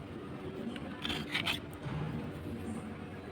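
A fishing-net float being shaved down with a blade into a small popper lure, a steady dry rasping scrape that swells briefly midway, close and alone with no talk.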